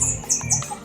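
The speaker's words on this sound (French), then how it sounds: "des oiseaux qui chantent" Birds sing outdoors in a quiet setting, with several short high chirps and tweets repeating in quick succession over a soft background.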